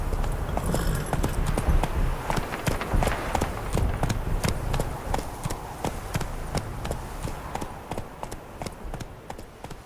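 Horses' hooves clip-clopping in a rapid, steady rhythm, close and continuous over a rustling outdoor background.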